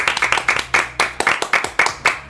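A handful of people clap in a radio studio, each hand strike distinct and close, in a quick uneven rhythm of roughly a dozen claps.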